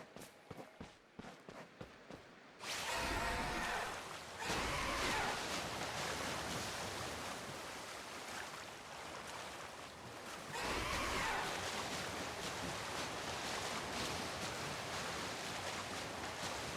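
Ocean surf in the Pokémon Legends: Arceus game washes in after a few quiet soft taps, a loud, continuous rush of waves that swells again near the end.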